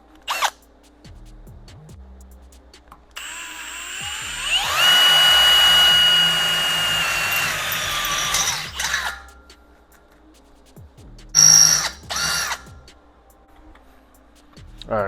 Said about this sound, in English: It's an air saw blade.